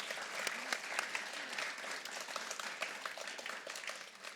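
Applause from pupils and staff at a Grade 4 school celebratory assembly for award winners, a steady wash of many hands clapping throughout, moderately distant and fairly soft, with no one speaking over it.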